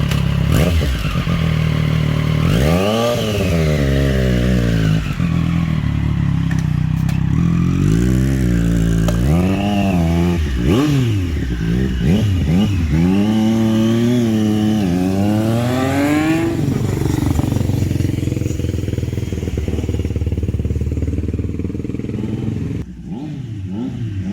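A 2020 Triumph Street motorcycle fitted with an SC Project S1 titanium exhaust and S-curve pipe is ridden around the block. The engine note is loud and continuous, rising and falling through repeated revs and gear changes, with no talk.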